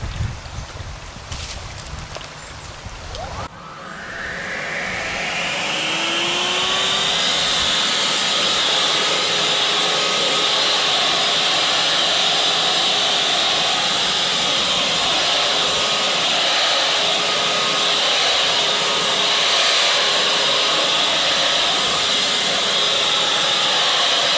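Redback 120-volt cordless leaf blower running steadily outdoors as it clears pine needles and pine cones embedded in rocks, a loud continuous rushing whine that rises to full power after a few seconds and holds, with no talking.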